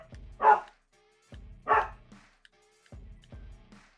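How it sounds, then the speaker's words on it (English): Dogs bark in short bursts: two loud barks about a second apart, then a pair of softer ones, with quiet gaps and no talking. "Dogs."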